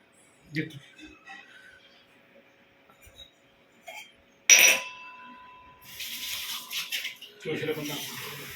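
Water is poured and splashes into a vessel after a festive food offering at home, a bright glassy clink followed by several seconds of trickling, with a person talking at the end.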